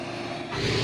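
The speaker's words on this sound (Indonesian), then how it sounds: "Iki jelas mesin Yamaha." A Yamaha engine runs steadily on a ride to Mount Kelud, a loud, continuous mechanical drone with a faint tonal hum that swells slightly toward the end of the brief moment.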